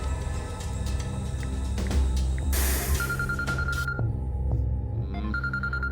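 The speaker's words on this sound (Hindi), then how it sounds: "अरे कौन फोन कर दिया यार?" A mobile phone ringtone sounds in short repeating tonal bursts over a busy dramatic background score, pausing once before starting again.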